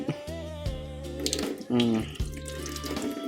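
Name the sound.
water running from a faucet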